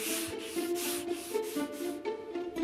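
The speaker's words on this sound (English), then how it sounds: "While Stefan continues his sanding marathon" Rhythmic rasping strokes of sandpaper rub back and forth over wood, about ten quick even passes, close up and fairly quiet.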